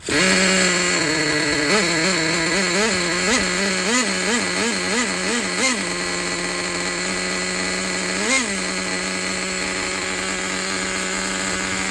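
A Traxxas Jato 3.3 nitro RC car engine idles loud and close with no throttle, a buzzy two-stroke drone that wavers and surges unevenly in the first half before settling into a steady rattling idle.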